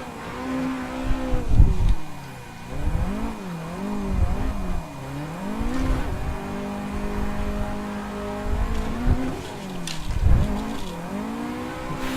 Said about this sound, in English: Just snagging that rev limiter.